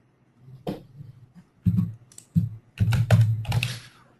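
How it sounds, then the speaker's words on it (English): Someone types a username on a computer keyboard in short bursts of crisp key clicks separated by brief pauses, growing denser toward the end, close and clear with no talking. "Neil Anderson, if you will type in your BMT username."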